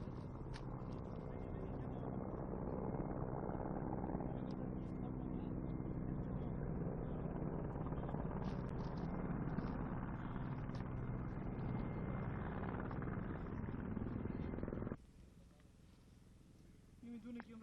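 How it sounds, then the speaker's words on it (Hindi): Two Mi-17 helicopters roar steadily during a special forces slithering operation at a landing zone, a dense continuous rotor and engine drone that cuts off abruptly near the end, with a voice speaking over it. "2 Mi-17 हेलीकॉप्टर्स में हमारे स्पेशल फोर्सेस कमांडोज को लैंडिंग जोन पर स्लिजरिंग की कार्रवाई करते देखेंगे"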